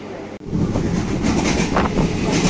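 A Sealdah–Ranaghat local train pulls away from Kalyani station, a loud, steady rumble of wheels and carriages rolling along the track with faint clickety-clack, heard from on board.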